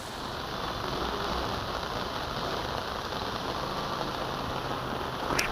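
Steady heavy rain patters on a surface in Vallabhipur, Gujarat, an even, hissing wash of drops that continues without pause and without any talking.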